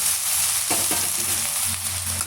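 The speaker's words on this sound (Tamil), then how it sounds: "சேர்த்துட்டு இதையுமே வந்து நல்லா வந்து வதக்கி விட்டுக்கலாங்க" Brinjal and tomatoes sautéing in a hot pan, a loud continuous sizzle with a few short stirring scrapes, close up.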